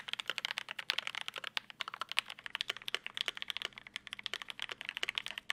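Rapid typing on a mechanical keyboard fitted with lubed JWK switches produces a dense, quiet patter of deep, muted keystrokes in a steady stream, close up with no voices.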